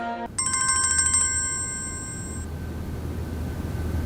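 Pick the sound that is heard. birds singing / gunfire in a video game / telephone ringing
telephone ringing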